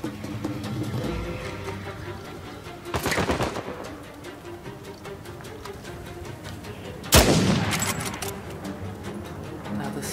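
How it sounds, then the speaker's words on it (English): Enemy gunfire in the video game Uncharted 4, with two sharp shot bursts standing out over a steady background of crackling battle ambience, moderately loud and somewhat distant. "Where are they shooting from?"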